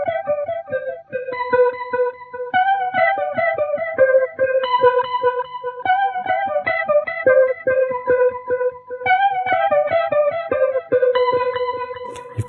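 Clean electric guitar through rotary and delay effects plays an arpeggiated riff, steady picked notes ringing into repeating echoes, close and alone.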